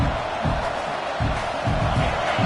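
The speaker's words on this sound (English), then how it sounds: "listen to this crowd noise. This stadium is vibrating" Massive stadium crowd at an LSU vs Texas college football game roars continuously, loud and dense, with rhythmic surges of cheering and whooping filling the whole stretch.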